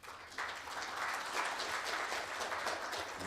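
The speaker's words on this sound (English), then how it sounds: "round of applause for the panelists" An audience at a green tourism symposium applauds the panelists, a soft, fairly distant wash of clapping that swells in quickly and holds steady.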